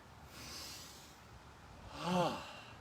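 A single heavy, audible breath during an outdoor park workout rises and falls over faint background noise, with a stronger voiced exhale near the end.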